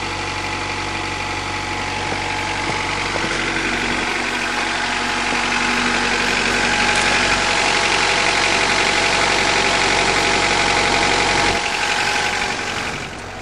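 A 1991 Honda Accord engine idles steadily after a winter cold start following seven and a half months of storage, a close, continuous mid-pitched hum with faint knocking texture and no talk.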